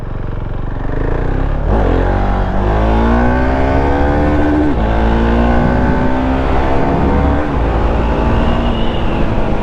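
A Husqvarna Vitpilen 701 motorcycle engine revs up and accelerates hard, its pitch climbing steadily through the gears, loud and close with no talking.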